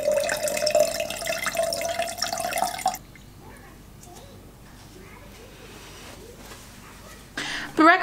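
Tap water runs steadily into a sink for about three seconds while fresh lemon water is made, then stops, leaving quieter kitchen movement before a brief burst of water at the end.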